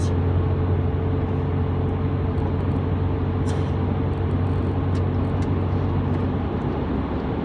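Steady low engine drone and road rumble from a truck cruising on a highway at about 60 mph, heard from inside the cab, continuous and even with no talking.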